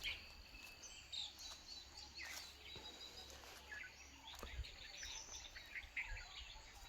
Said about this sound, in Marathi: पक्ष्यांचा आवाज सुद्धा येत असेल तुम्हाला.